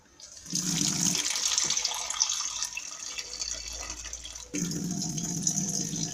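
Water runs steadily from a tap, splashing into a sink, with the flow briefly stopping and then starting again.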